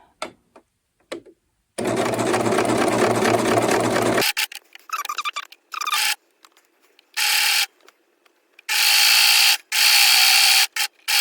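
A serger runs in a long loud burr while back stitching on kids' clothing, then stops and starts again in short bursts and longer runs between quiet pauses.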